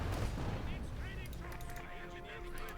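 Machine gun and cannon fire from World War II tanks in Company of Heroes 2, including a Panzer III-type main gun, rattling and booming steadily amid battle noise under a commentator's voice.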